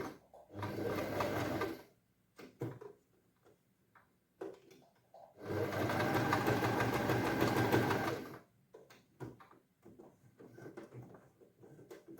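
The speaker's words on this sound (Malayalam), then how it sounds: "സ്ട്രേറ്റ് ആയിട്ട് അടിച്ചെടുക്കുക" A sewing machine stitches a silk pattu pavada skirt and blouse in two sustained runs, each a few seconds long, loud and close, separated by quieter handling noises of fabric and the machine.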